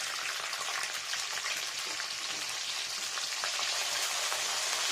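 Yardlong beans fry in oil with a close, steady crackling sizzle that holds at an even level throughout, with no talking.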